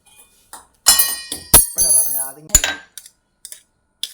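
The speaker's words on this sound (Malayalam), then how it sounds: "നമ്മളിത് വേറൊരു സ്പൂൺ വെച്ചിട്ട് ഇതിനെ വടിച്ച് വടിച്ചെടുക്കണം" A spoon scraping sticky halwa off a banana leaf in a home kitchen, heard as a few sharp scrapes and metallic clinks between quiet gaps.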